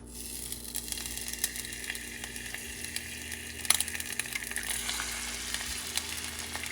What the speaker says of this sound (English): Just frying a couple eggs.